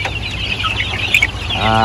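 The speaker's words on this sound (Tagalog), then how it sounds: "So kumakain yung ating manok talaga nito, yung ating mga sisiw." Chicks cluck and peep softly nearby as they peck at feed, a busy scattering of small calls over a low background hum.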